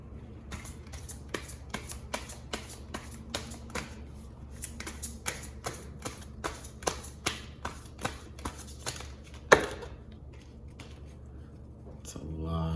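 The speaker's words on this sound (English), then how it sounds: "A couple more shuffles of this deck." A deck of tarot cards is shuffled over and over, each riffle giving a crisp, soft, rhythmic flutter, repeated evenly and close by at low volume.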